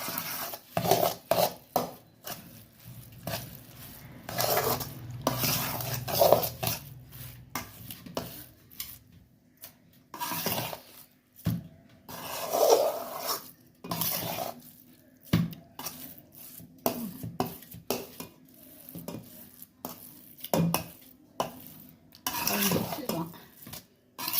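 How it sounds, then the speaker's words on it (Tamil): A spoon stirs spinach rice made with mulaikeerai in a pot, giving repeated scraping and clinking against the metal in irregular bursts, fairly close, with no talk. "இப்போ நல்லா கிளறி விட்டுக்கிறோம்"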